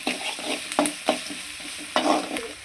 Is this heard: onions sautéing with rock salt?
yes